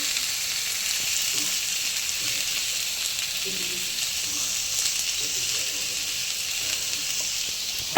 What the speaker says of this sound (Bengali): আমি এর মধ্যে পেঁয়াজ রসুন কাঁচা লঙ্কা আর টমেটোটা ভালো করে ভেজে নেব